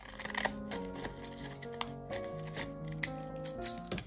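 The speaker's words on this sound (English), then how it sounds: "Or could just take my kid scissors and make this fun edge." Small children's scissors snip a decorative edge into paper in a series of quick, close, crisp cuts, each with a sharp click and rustle of the sheet, with no talking.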